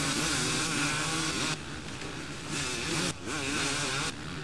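Dirt bike engine revving in the MX vs. ATV Unleashed video game, a loud continuous buzzing whine that rises and falls with throttle, briefly dipping a few times, with no voices.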